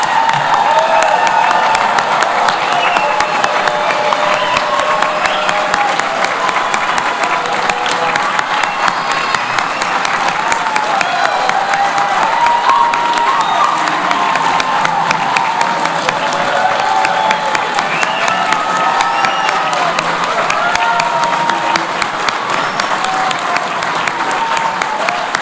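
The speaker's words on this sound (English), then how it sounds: "Let's give a big round of applause to our graduates." A large audience at a university continuing and professional studies commencement applauds and cheers its graduates, loud dense clapping with scattered shouts sustained throughout.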